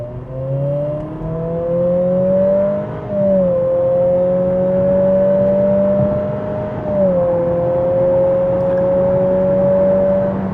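A 2025 Acura ADX A-Spec accelerates toward highway speed, heard from inside as a steady engine drone whose pitch climbs, dips at gear changes and climbs again, with road rumble underneath.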